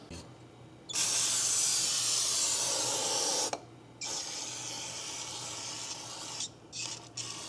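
Aerosol cleaner sprays onto the intake surface of a 2004 Ford Crown Victoria during intake manifold work. There is a loud, steady hiss of about two and a half seconds, a short pause, then a longer, steady spray with brief breaks near the end.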